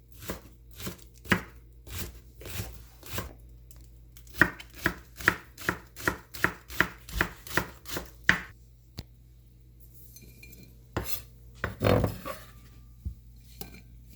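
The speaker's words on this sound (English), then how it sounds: "Okay, I'm gonna slice my green onions" Green onions being sliced thinly with a knife on a cutting board, a run of crisp, evenly spaced close chops, quickening in the middle, then a pause and a few scattered knocks and clatters.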